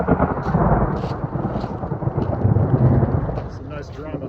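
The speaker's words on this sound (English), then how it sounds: "Rain number 2" Rain falls on Colcord Mountain, a dense steady patter under a deep, rolling rumble of thunder that swells and fades across the moment.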